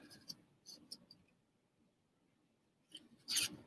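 Scissors snip through old book paper being cut into rose shapes, a few soft crisp cuts at the start, a pause, then a louder rustling snip near the end.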